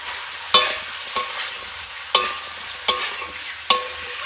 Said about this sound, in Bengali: কেটে রাখা লাউ শাকটা দিয়ে দেবো, খুব ভালো করে মিশিয়ে নিচ্ছি।